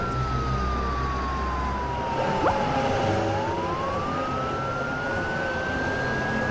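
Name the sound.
toy police car siren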